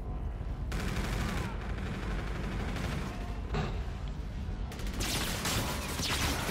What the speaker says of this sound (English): The User is being shot from behind.